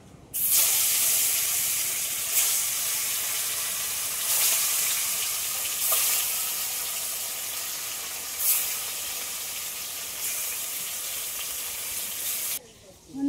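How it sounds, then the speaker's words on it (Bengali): Rupchanda fish frying in hot oil, a loud, steady sizzle and hiss that runs almost the whole time, with a few sharper bursts of spattering along the way and no talk. "এবার মাছ ভেজে নেব। তেল গরম হয়ে গেছে"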